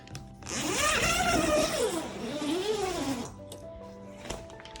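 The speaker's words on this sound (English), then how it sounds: "and then I'll zip it up" A zipper runs along the entrance of a portable sauna tent in one long rasping pull lasting about three seconds, close and fairly loud, followed by a few soft rustles.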